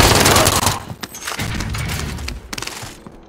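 Rapid gunfire bursts in a multiplayer shooter game, with enemies firing down from a headquarters rooftop; loud, dense shots in several clusters over a few seconds.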